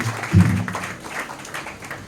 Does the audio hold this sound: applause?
yes